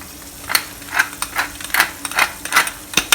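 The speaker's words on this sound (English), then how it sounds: "Give this a little stir" A spoon stirs fish fillet sauce seasoned with light soy sauce and pepper in a hot pan, scraping in regular strokes roughly every half second, close and clear with a faint sizzle underneath.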